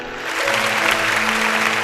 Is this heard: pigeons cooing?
no